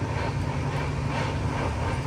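A Humsafar Express train runs steadily along the rails, heard from inside a 3AC coach as a loud, continuous broadband rumble and rush with no clear breaks or voices.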